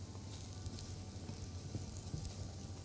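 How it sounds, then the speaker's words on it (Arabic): Semolina toasts in a pan, giving a faint, steady sizzle with soft stirring scrapes and no voices. "لازم نبتدي نقلب علشان اللون يبقى متساوي في السميد كله"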